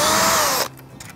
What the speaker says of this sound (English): I'll be using a drill to take it off just because it's quicker